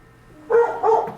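A dog barks inside a home as police enter, two loud close barks coming in quick succession after a quiet moment.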